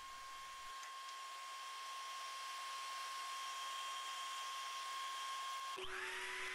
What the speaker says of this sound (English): using my little right angled air-powered sander just to get in those tight areas